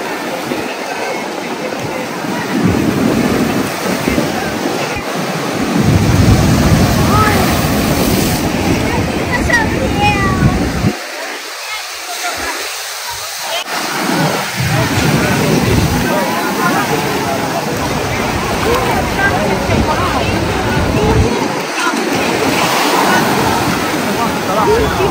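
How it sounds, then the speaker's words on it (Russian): Strong wind and surf on a seaside beach roar in long rolling surges, loud and broadband, with a brief lull midway before the crashing resumes; voices talk at times. "Ветер, конечно. Какие волны."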